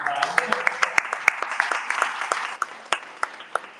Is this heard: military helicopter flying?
no